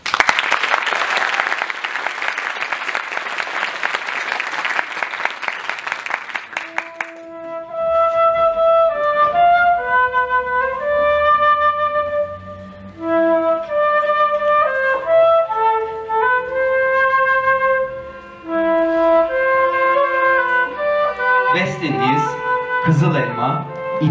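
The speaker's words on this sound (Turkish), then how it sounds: "O zaman bir alkış." An audience at a school Teachers' Day program gives loud, dense applause for several seconds, then it stops and a melodic instrumental passage begins.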